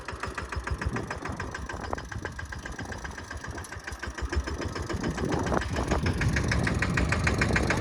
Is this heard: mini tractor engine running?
yes